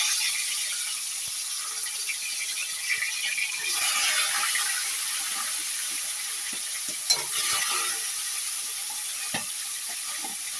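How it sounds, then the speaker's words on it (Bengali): Fish frying in hot oil in a kadai, a steady loud sizzle throughout with occasional crackles and pops, no talking. "গরম হয়ে গেছে, আমি এখন একে একে মাছগুলো ছেড়ে দেবো"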